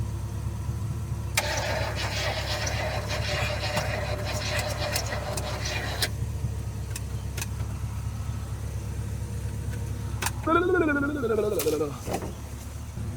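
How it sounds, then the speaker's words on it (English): A 1972 GMC truck left sitting for over 30 years cranks over outdoors with a steady grinding starter whir. Birds chirp nearby, and a short wavering whine rises near the end. "Fire in the hole! It's turning over faster."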